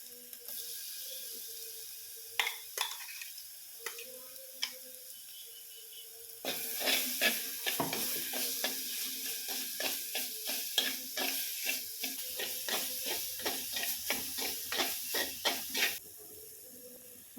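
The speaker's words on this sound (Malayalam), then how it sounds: "ഈ ചതച്ച് വെച്ചിട്ടുള്ള ഉള്ളി വെളുത്തുള്ളി പച്ചമുളക് ഇതെല്ലാം കൂടി ഇട്ട ചതച്ച് ഈ കൂട്ട് എണ്ണയിലേക്ക് ഇട്ടിട്ടൊന്ന് മൂപ്പിച്ചെടുക്കാം" Crushed onion, garlic and green chilli fry in coconut oil, a steady close sizzle with a busy run of scraping stir strokes through the middle and end of the clip.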